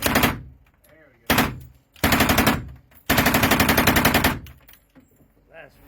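Automatic gunfire rips out in several fast, rattling bursts, the longest lasting over a second, close and loud, with faint voices in the gaps between bursts.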